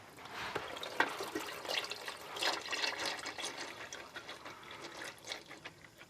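Engine oil drains from the sump of an Isuzu MU-X / D-MAX diesel, about 7.5 to 8 litres, in a steady close-up trickle and splash with no talking.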